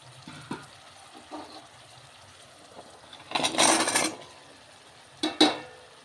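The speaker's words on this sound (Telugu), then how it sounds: "ఇప్పుడు మనం దీంట్లో ములక్కాయ ముక్కలు వేసుకోవాలి." Drumstick pieces frying in oil in a pan, quiet crackle with a few soft clinks, then two louder bursts of sizzling and stirring.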